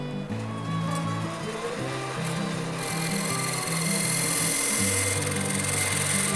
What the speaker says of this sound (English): I am going to use this point to scribe a line